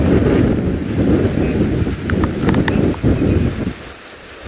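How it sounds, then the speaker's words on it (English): Strong beachfront wind buffets the microphone in heavy, rumbling gusts, loud and continuous, easing briefly near the end before surging again. "the wind is now really starting to pound"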